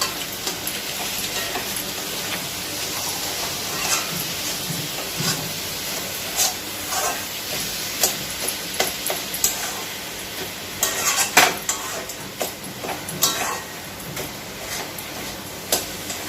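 Egg and lentil fritters frying in hot oil, a steady sizzle and hiss broken by frequent sharp crackles and the clink of a utensil stirring in the pan, fairly close and with no talk.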